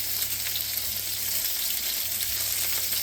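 Pork cutlets made without egg fry in a pan, giving a constant crackling sizzle of hot oil that stays steady and fairly loud throughout with no talking.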